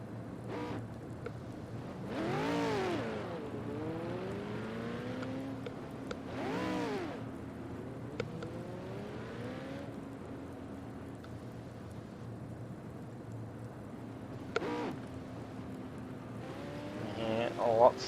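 A V8 Supercar engine in an esports racing game revs up in sharp rising bursts as setups change at Bathurst Mount Panorama, several separated spikes over a low steady idle hum, fairly quiet overall.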